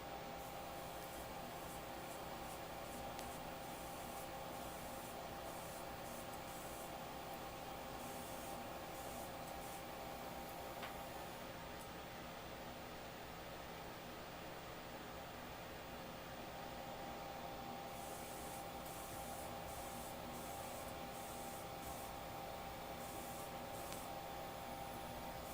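Primer sprayed onto parts of an MG 1/100 Sinanju (OVA ver) Gundam model kit gives a steady, faint, continuous hiss with brief breaks, and no talking.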